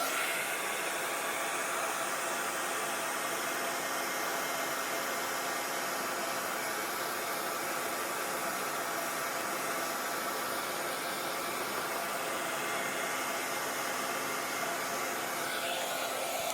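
A dryer blows steadily to dry acrylic paint on a Bible page, a loud, constant close-up whoosh of air with a motor whine that holds unchanged for about sixteen seconds, no talking.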